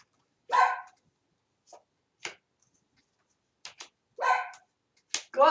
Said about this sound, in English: Go outside to bark.